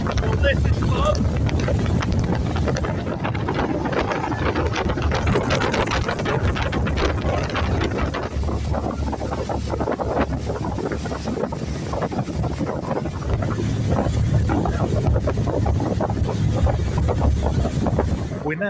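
Fast ferry crossing Lake Garda: a steady, loud engine and hull rumble with gusting wind buffeting the microphone on the top deck, continuous for the whole stretch.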